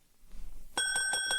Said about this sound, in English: There was a bell on the counter.